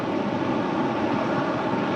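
A passenger jet takes off from runway 25 right under Los Angeles tower control, making a steady, loud, unbroken broadband roar throughout with no pauses.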